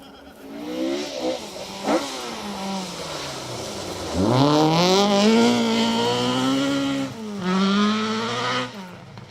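Peugeot 306 Maxi rally car at the RAC Rally, its engine revving hard and climbing through the gears in repeated rising sweeps, loud and fairly close, with brief dips between pulls.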